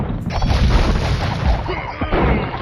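Bombard cannon in Age of Empires II pounding trebuchets during a 2004 match, a continuous dense barrage of booming blasts and crashing impacts that stay loud throughout, with no voice over them.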